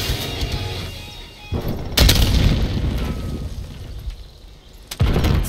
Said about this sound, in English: Sending impact grenade.